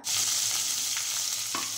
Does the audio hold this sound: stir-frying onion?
yes